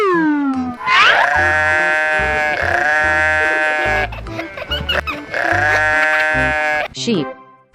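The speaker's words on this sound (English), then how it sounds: "Sheep." Sheep on a farm bleating loudly and up close, several long wavering calls one after another over a rhythmic background drone.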